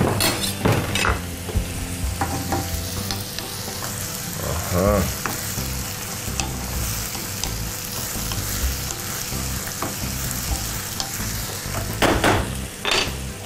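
Peppers frying in a pan, a steady close sizzle with frequent stirring scrapes and occasional clinks of a utensil against the pan.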